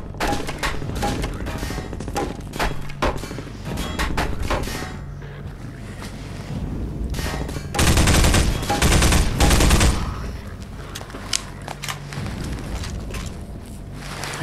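Dense bursts of automatic and single-shot gunfire in Half-Life 2's VR mod on the Highway 17 level, loud and close, with a heavier sustained volley partway through and scattered shots around it.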